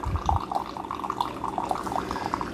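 A Keurig K-Brew+Chill coffee maker brews a strong cup, hot water trickling and dripping steadily through the grounds into the cup with a low gurgle, close and continuous.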